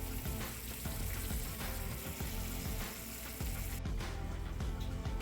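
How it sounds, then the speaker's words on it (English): An egg roll wrapper fries in hot oil with a constant, dense sizzle and crackle, fairly quiet but continuous throughout, with occasional small clicks and pops. "Just make sure it's sizzling."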